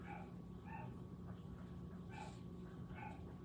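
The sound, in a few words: dog barking outside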